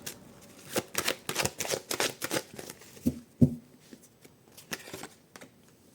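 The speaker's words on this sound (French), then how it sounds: "je vais aller recouvrir on va aller recouvrir tout ça" Tarot cards shuffled by hand in a quiet room, a run of crisp papery riffles and slaps in quick bursts, near and clear, with a couple of firmer taps partway through and no talk.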